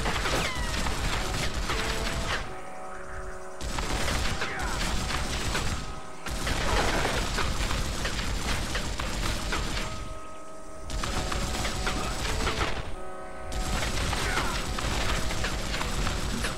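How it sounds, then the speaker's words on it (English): Rapid mechanical gunfire from a Gatling gun in the Western video game Red Dead Revolver, sustained loud bursts broken by short pauses, with clattering game mechanisms and no talk. "This is why we save ammo on the Gatling gun."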